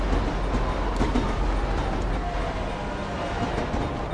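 A train rumbles past in Grand Theft Auto V, a loud continuous roar with faint clattering of wheels that fills the whole clip and carries no talk.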